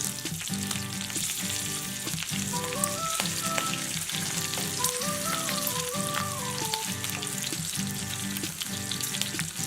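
Slit green chilies and curry leaves saute in hot oil for a South Indian vegetable kurma, crackling and sizzling steadily and close, with occasional stirring scrapes and no talk.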